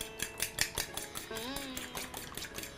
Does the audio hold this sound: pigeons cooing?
no